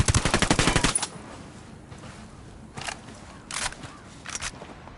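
Gunfire in the video game Ghost Recon Wildlands: a loud, rapid machine-gun burst opens, then a few spaced, punchy single shots ring out against a steady background hiss.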